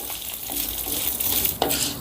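Garlic cloves and ginger fry briefly in a pan with oil while an ivy gourd chutney is made, a soft close sizzle with light stirring and one sharp tap near the end.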